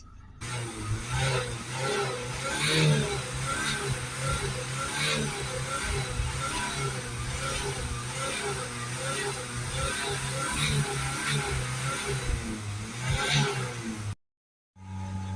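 A Citroen Berlingo 1.6 HDi diesel van engine, with a worn particulate filter, revs and holds steady at about 3000 rpm, droning continuously for most of the clip before cutting off abruptly near the end.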